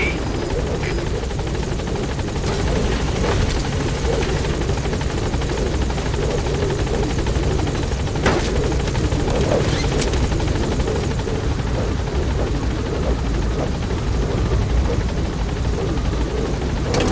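Pequod helicopter from Metal Gear Solid V: The Phantom Panic in a PS5 game, its rotor drone steady and loud throughout, a constant close whirring hum with a few brief clicks on top.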